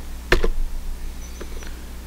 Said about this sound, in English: I can still use the keyboard.